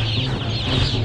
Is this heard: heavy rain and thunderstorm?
no